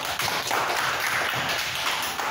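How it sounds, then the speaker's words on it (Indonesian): A classroom of fourth-grade pupils claps together in a brief burst of dense, steady applause that fills the room at close range, with no talk over it. "Tepuk tangan untuk kita bersama."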